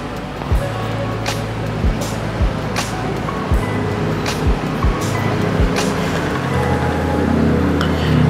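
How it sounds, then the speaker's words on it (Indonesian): Busy road traffic right beside a studio, a constant roar of passing motorbikes and cars with several brief horn honks rising over the din. "ada suara motor, mobil, klakson, karena ini studioku benar-benar di samping jalan raya"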